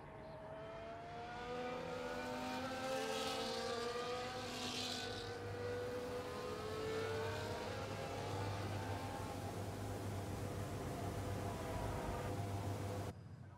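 F1 race cars revving and accelerating away at the start of the Bahrain Grand Prix in the F1 24 video game, a steady dense whine of several engines rising in pitch, continuous and moderately loud.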